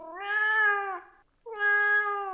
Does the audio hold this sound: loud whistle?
no